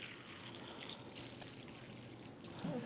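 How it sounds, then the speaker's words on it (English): Tap water poured into a container gives a steady, soft trickling stream close by, running without a break for a few seconds with no voices over it. "we're just going to simulate that by pouring some tap water in here."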